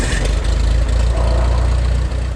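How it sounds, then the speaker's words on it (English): A light aircraft engine starts and runs with a loud, low, steady rumble and chugging pulses, close by and without any voices. "Time for your pilot to start the engine."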